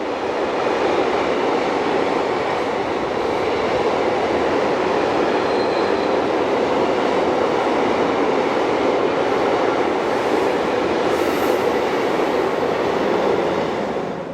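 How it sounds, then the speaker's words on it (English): A southbound oil train hauled by electric locomotives, with a banking locomotive at the rear, rumbles past on a European mountain line after overnight rain, a steady broadband roar of wheels and wagons holding loud and continuous throughout. "with 1144095 providing assistance at the rear of this southbound oil train"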